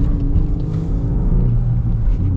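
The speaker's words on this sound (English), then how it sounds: "Got cool turbo noises" A VW Golf R 20th Anniversary with a manual gearbox and turbocharged engine being driven, giving a loud, steady low rumble of engine and road noise with no one talking.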